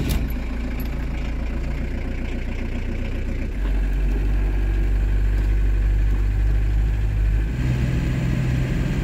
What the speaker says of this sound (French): On laisse préchauffer le moteur. Et puis on va démarrer